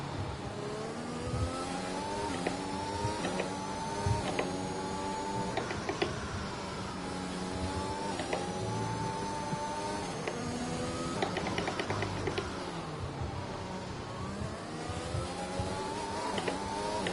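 An F1 car in the F1 2021 racing game accelerates out of a slow corner with its rear wheels spinning, the engine whining high and rising and falling in pitch over repeated gear changes, steady and close with no talk.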